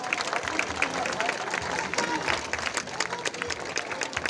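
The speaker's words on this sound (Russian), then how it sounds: "Давайте встретим их аплодисментами," Steady applause from a large crowd at a Sevastopol city anniversary concert, dense and continuous throughout, with cheering voices mixed into the clapping.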